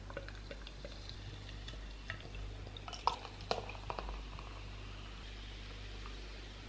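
Freshly poured Dreykorn-bräu Laufer Kellerbier foams in a glass, giving a faint, steady fizz with a few small pops and crackles close by and no talking.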